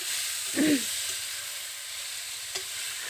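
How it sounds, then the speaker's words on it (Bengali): Pieces of bitter gourd fry in oil, a steady bright sizzle filling the clip, with a brief low clunk early on and a faint tap later; no voices. "প্রথমে উচ্ছেগুলোকে ভালো করে ভেজে নিচ্ছি"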